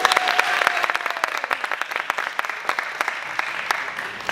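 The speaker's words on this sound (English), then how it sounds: "A round of applause for this gentleman." An audience bursts into applause for a volunteer at a voter registration event in North Carolina, dense steady clapping filling the room with a faint voice under it.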